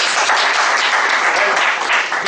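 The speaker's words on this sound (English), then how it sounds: "So shall we give him a round of applause?" Steady applause from a crowd, a continuous wash of clapping at even loudness throughout.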